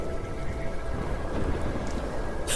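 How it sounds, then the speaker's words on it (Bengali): Heavy, steady downpour roaring close by, with a deep rumble underneath and a brief sharp burst at the very end. "হঠাৎ মুষলধারে বৃষ্টি নেমে গেল"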